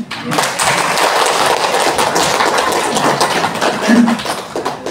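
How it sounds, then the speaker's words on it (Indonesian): A group at a teacher-training dissemination session claps in unison, giving a full, steady round of applause for about five seconds before it tapers off. "Coba kita tepuk tangan dulu"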